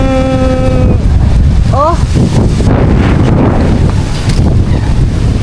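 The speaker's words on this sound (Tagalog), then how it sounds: "Ganito kalakas ang hangin ngayon dito sa Pubunuto." Strong near-typhoon wind roaring and buffeting the microphone, a constant loud rush with a brief high whistle near the start.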